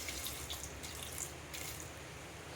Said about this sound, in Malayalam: വെള്ളം ഒഴിക്കുക.